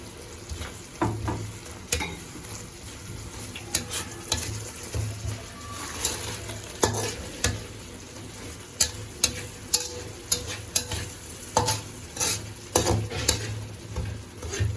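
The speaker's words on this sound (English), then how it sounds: "Now we can stir it." Noodles fried with dark soy sauce sizzle steadily while a spatula stirs them, scraping and tapping the pan in irregular bursts, close and clear.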